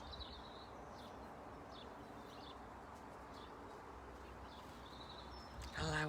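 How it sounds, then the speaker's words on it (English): Outdoor birdsong, faint and distant: scattered high chirps and twitters over a steady hush of background noise, with a voice starting briefly at the very end. "Listening to the birds."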